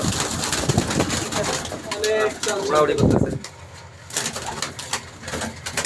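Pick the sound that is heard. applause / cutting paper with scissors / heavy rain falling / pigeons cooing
pigeons cooing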